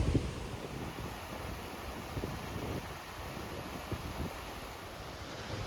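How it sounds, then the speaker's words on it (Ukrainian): Steady rushing wind buffeting the microphone in the wild Carpathian mountains at Osmoloda, Ukraine, a continuous low roar with gusty swells and no voices. "Почався якийсь вітер."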